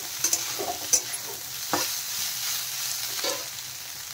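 Boiled soybeans are stirred and fried in a pan, a steady close sizzle broken by a few light scraping and clinking knocks of the spatula. No speech.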